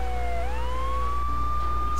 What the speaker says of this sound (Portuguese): com a sirene ligada